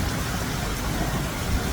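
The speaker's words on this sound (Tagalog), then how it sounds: "hanggang ngayon nalakas pa rin kung naririnig nyo yung kulog at kidlat" Heavy rain pours down during a stormy power outage at home, a loud, dense, steady roar with thunder rumbling low underneath.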